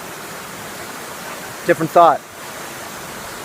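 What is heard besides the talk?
waterfall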